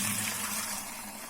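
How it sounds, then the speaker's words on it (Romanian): Homemade wine is poured by hand into a bucket, giving a faint, continuous gushing splash of liquid with no voices. "Așa avem vinul și îl turnăm"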